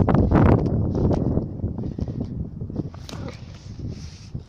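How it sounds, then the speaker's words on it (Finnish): Wind gusts outdoors buffet the microphone with a rough, low rumble and hiss, strongest at the start and easing to a steadier, softer blow, with faint rustling mixed in. "Vähän tuuli puhaltaa."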